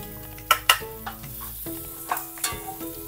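Garlic and a large onion sauté in a pan for a pork Bicol Express sauce, a low steady sizzle broken by several sharp stirring clatters of a utensil against the pan.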